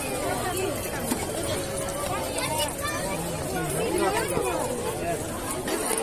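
A large crowd chatters along the Ganga riverbank at Manihari, a steady babble of many voices close and far blending into a continuous hum, with someone speaking over it.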